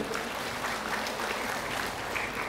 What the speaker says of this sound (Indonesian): Tepuk tangan buat MPI